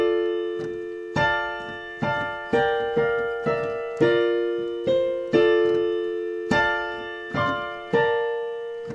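Piano playing a slow melody with chord notes stacked under every melody note, each block chord struck firmly and left ringing, about ten heavy chords in a steady measured rhythm with no voices.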